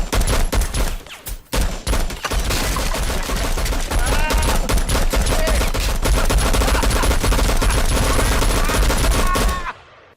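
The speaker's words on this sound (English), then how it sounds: "presenting him with a Colt 1865 Gatling gun and enjoying himself" A Colt 1865 Gatling gun blazing away in the Western monster film Tremors 4, a long loud continuous rattle of rapid shots lasting about ten seconds before cutting off abruptly.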